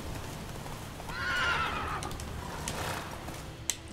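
A horse named Roach in The Witcher 3 video game gives a single whinny, rising and falling, at moderate distance over a quiet outdoor game ambience, with a faint hoof clop near the end.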